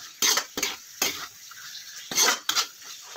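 A spoon stirs vegetable curry in a pan, giving five distinct scraping clatters of utensil on metal spaced irregularly over a few seconds, close and moderately loud, with no voices.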